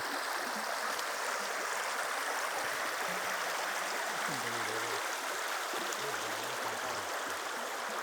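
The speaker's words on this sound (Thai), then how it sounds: "เดี๋ยวพี่น้องน้ำตกงามเลยครับ" A waterfall pours with a steady, broad rush of water, fairly close, while someone talks over the constant roar.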